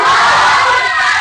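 A large religious gathering shouts a loud unified response to a slogan, a dense roar of many voices sustained for the whole brief moment without a break.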